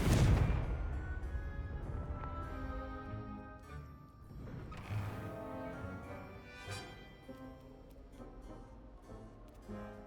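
A Confringo blasting spell goes off in Hogwarts Legacy, a loud booming burst at the start that rolls into a decaying rumble, followed by game music and further softer impacts.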